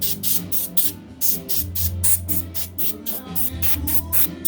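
A can of compressed air duster blows dust off a Fender Jazz bass guitar in about a dozen short, sharp hissing bursts, close and fairly loud, with brief pauses between them.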